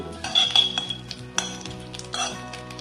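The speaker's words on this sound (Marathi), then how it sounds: "मंद आचेवर आपण कढीपत्ता छान परतून घेऊ" A spoon scrapes and clinks against a pan while curry leaves sizzle gently in oil over low heat, with irregular stirring knocks and no talking.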